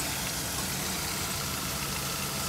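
A converted bus engine idling smoothly, a steady continuous mechanical hum with broadband rumble that stays even and unbroken throughout, fairly close, with no voices.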